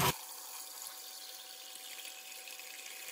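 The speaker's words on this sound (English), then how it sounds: "Get rid of that dirty water there." A sink faucet runs steadily to flush dirty water from the lines after a water softener bypass valve repair, making a faint, even hiss of flowing water with no voices and no change in pace.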